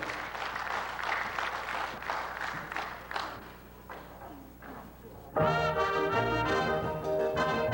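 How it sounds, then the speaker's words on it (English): A concert audience claps and cheers in a patchy round of applause that fades out, then music starts loudly. "let's get a round of applause"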